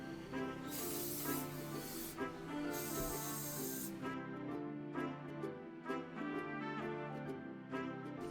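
Aerosol can of clear varnish sprayed outdoors onto handmade Christmas decorations, a loud close hiss coming in long bursts of about a second to two, with a steady background hum.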